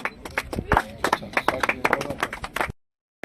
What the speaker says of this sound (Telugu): ప్రతి ఒక్కరికి కూడా మరొకసారి గట్టిగా చప్పట్లతో స్వాగతం సుస్వాగతం తెలియజేద్దాం.